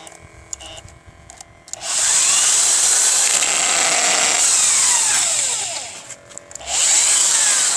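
A power drill bores into wood with a loud, high-pitched whine that runs for about four seconds, cuts out briefly, then starts again, with quiet handling sounds before the first burst.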